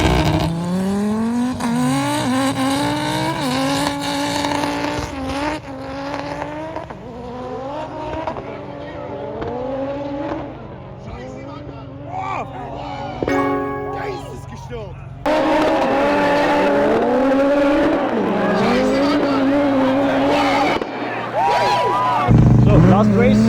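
Race cars making over 1000 horsepower run head to head at a racing event, engines revving and shifting loudly through repeated rising pulls with tire noise, while a commentator talks over the action.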